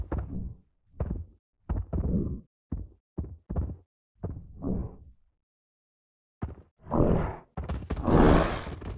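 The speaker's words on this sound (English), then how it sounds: "Here is the isolated sound of the enemies being occluded by this rock door." Muffled enemy sounds occluded behind a rock door in a Wwise/Unity spatial audio game demo: a series of dull, low thumps and grunts in irregular bursts, then louder, brighter rushing swells near the end.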